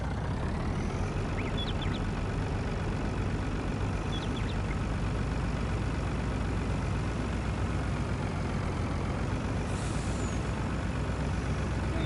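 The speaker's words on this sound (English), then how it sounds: "back to the truck, which is full now." Truck engine from the Farming Simulator 19 video game runs steadily for the whole stretch, a loud continuous low rumble with faint brief hiss-like accents, no talking.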